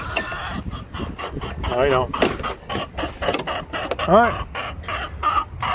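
Backyard chickens cluck and crow near the microphone, several short warbling calls standing out amid scratchy yard noise, while a person talks briefly nearby.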